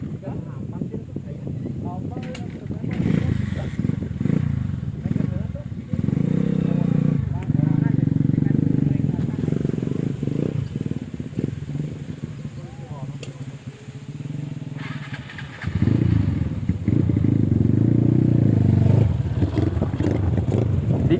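Motorcycle engine revving in bursts, rising and falling in loud surges between steadier running, with people talking and some wind noise around it.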